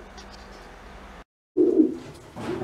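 Racing pigeons coo in a loft, a soft close burst of throaty cooing followed by another quieter coo, with low background hum before a short silence.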